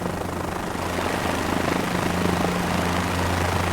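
Helicopter in Microsoft Flight Simulator 2024, a steady low rotor thrum with a droning engine hum, constant and fairly close throughout with no talking.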